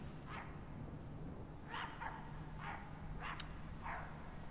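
A dog in the horror game My Friendly Neighborhood barks five times, short and sharp, spaced about a second apart over a steady low background hum.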